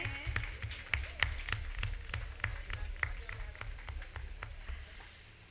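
An audience at a Hindi poetry gathering and award ceremony in Lucknow gives faint, scattered clapping. Sparse individual claps land unevenly over a low steady hum.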